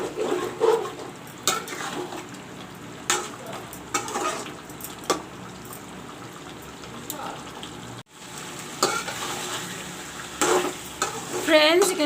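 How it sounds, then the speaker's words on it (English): Mutton sizzles and fries with masala in a pan, with intermittent stirring and scraping clatters over a steady crackling hiss. "you can see the mutton frying along with the masala"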